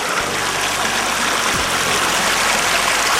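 An icy mountain river flows in a constant broadband rush, loud and near, with a faint low mechanical hum underneath and no talking.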